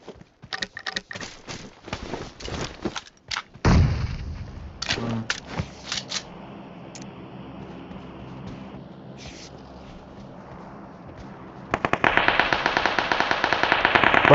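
Shotgun blasts in PUBG Mobile, a cluster of sharp, loud reports in the opening seconds followed by quieter scattered shots and ambient game noise, with a dense crackling burst near the end.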